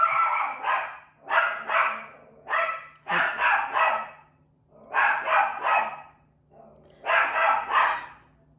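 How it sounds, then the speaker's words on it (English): A dog barks repeatedly in short bursts of several yaps each, close and loud, with brief pauses between volleys. "she needs to do extra barking for the rest of the afternoon"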